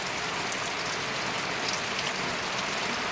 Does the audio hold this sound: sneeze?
no